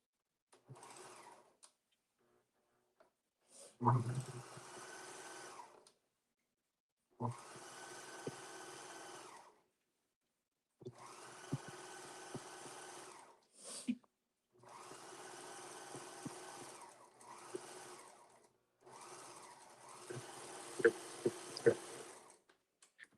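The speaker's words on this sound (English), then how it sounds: "I'm just going to clean up my edges using my serger. So let me stop talking for a minute because my serger is very loud." Serger overlocking and trimming fabric edges while sewing a garment back, running in loud whirring bursts of a few seconds each, separated by short pauses, with no talking over it.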